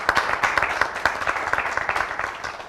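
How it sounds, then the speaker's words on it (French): A talk show studio audience bursts into applause, lively close clapping with distinct hand claps over a steady wash, tapering slightly toward the end. "on applaudit"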